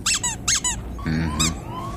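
A squeaky toy is squeezed repeatedly up close, giving a few sharp, high-pitched squeaks in quick pairs, then a longer rubbery squeal and one more squeak.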